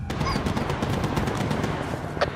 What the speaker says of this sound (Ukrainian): Постріли і чийсь голос